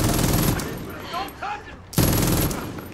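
An MG-42 machine gun in the video game Far Cry 5 fires in dense sustained bursts, loud and close, pausing briefly in the middle before opening up again, with a voice talking during the lull.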